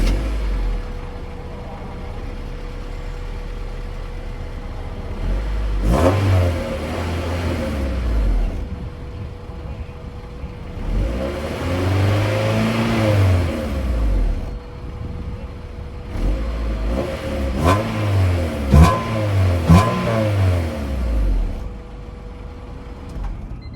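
A 2000 Honda Civic EX fitted with an N1-type muffler idles steadily, then revs in three separate bursts, each rising and falling back to idle. The exhaust sounds close and fairly subdued, and no one speaks.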